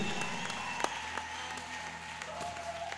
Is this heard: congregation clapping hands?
yes